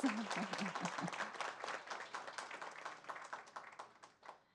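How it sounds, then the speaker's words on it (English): An audience at a school board meeting applauds a high school valedictorian: dense clapping that starts full, a brief voice at the very start, then gradually thins and fades toward the end. "So now some applause for Isel Ramirez."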